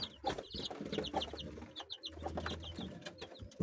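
Backyard chickens, a rooster with young pullets and chicks, cluck and peep close by in a busy, continuous chatter of short calls.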